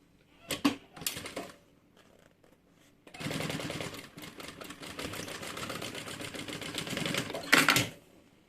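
A sewing machine stitches a fabric pouch, a few short clatters first, then a steady run of rapid needle ticking lasting several seconds, close and fairly quiet, ending with a brief louder burst as it backstitches.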